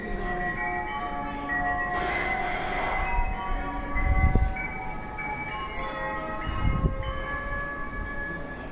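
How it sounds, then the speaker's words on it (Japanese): A train at Aomori Station rumbles along the platform with rail squeals and tonal hums, a couple of louder low thumps from the wheels, heard at moderate distance. "列車が発車いたします。"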